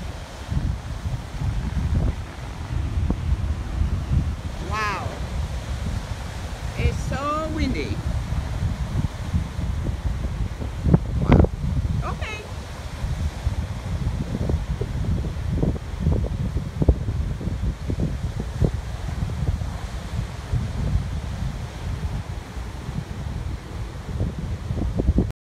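Strong wind buffets an outdoor microphone in a steady low roar throughout, with bird calls and brief voices scattered over the rumble.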